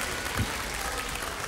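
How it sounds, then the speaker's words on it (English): Steady applause fills a children's live concert, a dense even wash of audience clapping with no voices heard over it. "Give him a big round of applause."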